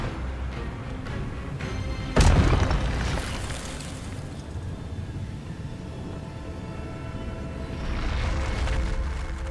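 A spell cast in the Hogwarts Legacy video game lands as a sudden loud boom-like burst, followed by a lingering rumbling whoosh and a second swell of magical noise near the end, with no voices.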